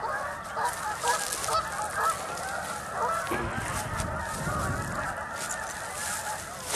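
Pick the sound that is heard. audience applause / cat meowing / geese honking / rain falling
geese honking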